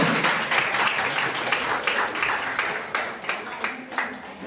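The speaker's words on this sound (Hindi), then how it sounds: "आइए जोरदार तालियों के द्वारा एक बार फिर से परमेश्वर की महिमा करेंगे" Church congregation clapping loudly together during a Holy Communion Sunday service, a continuous, even crackle of many hands with small rhythmic surges, filling the hall and easing off toward the end.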